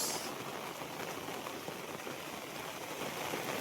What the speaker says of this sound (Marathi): जिकडे भेटेल तिकडे पाऊसच पाऊस